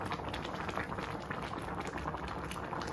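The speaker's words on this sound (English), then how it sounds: "When the gravy started boiling, then I am going to put it in the oven." Short rib gravy boiling in a pot, a dense steady bubbling and popping, close up and quiet, with no voices.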